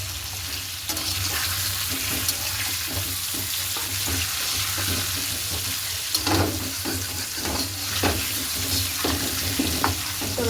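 Potatoes seasoned with turmeric and salt fry in a covered wok, a steady close sizzle with scattered clinks and scrapes throughout and no talking.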